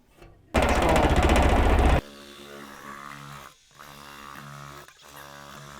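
Sheet metal panel worked on a stand and in a shrinker, heard as a loud burst of rapid mechanical rattling followed by quieter, repeated machine-like grinding passes with short pauses between them.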